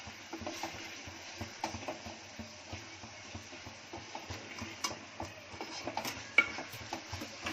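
Green chillies sizzle quietly in a pan over high gas while a utensil scrapes and clicks against it in a steady stirring rhythm.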